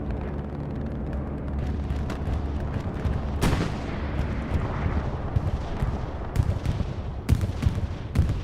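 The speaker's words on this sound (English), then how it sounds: "it's a Axis bombing run coming in from south to north" Distant explosions and booming gunfire from an Axis bombing run in the World War II shooter Hell Let Loose, with a continuous rumbling battlefield din and a few sharper blasts near the middle and end.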